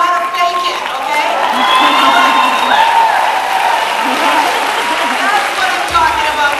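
Stand-up comedy crowd clapping, cheering and whooping, a loud continuous wash of applause with shouts and voices mixed in, close and sustained throughout.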